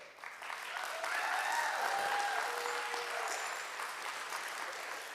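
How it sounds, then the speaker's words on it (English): Audience at the ANC Ideas Summit 2025 claps to welcome a speaker to the stage, a sustained, fairly distant wash of applause with faint whistles and crowd murmur running through it. "can you please give a warm welcome, a round of applause for Frank as he comes up?"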